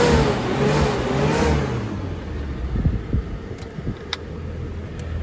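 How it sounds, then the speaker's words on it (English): A Suzuki Sport from Japan with fog lights revs a couple of times, a loud engine roar that swells and then fades to a low idle, followed by a few light clicks. "I'll give it a couple revs."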